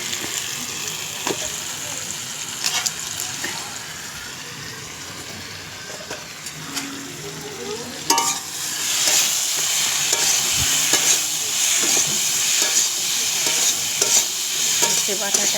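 Mustard paste for a raw mango sour curry frying and being stirred in a pan, a steady close sizzle with scraping strokes that grows louder and more intense partway through.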